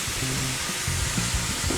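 Garlic and onion sizzle in a pot with browned sausage, a steady close frying hiss with light stirring throughout.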